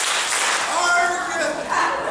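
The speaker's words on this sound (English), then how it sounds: "If you're happy and you know it, clap your hands." Hands clap along while voices sing a children's action song in a stage play, the claps partly buried under the singing.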